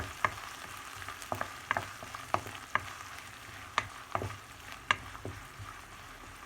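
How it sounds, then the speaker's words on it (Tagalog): Garlic and onion sautéing in a pan, stirred with repeated sharp scrapes and clicks of a utensil every half second or so over a low, steady sizzle, close and moderately loud, with no talking. "Halo-haloin lang para lumabas yung aroma ng bawang at saka sibuyas"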